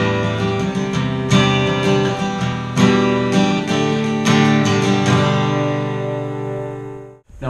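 Acoustic guitar strumming a pattern of five chords, bright full strums with rhythmic changes, loud and close, ending in a brief muted stop.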